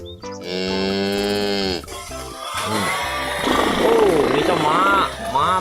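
A toy cow gives a long electronic moo, followed by further toy animal sounds and chatter as someone talks over them.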